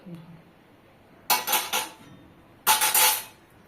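An IFB 20BC4 microwave's convection baking tray is lifted out, giving two short, close, metallic clattering rattles separated by a quiet pause.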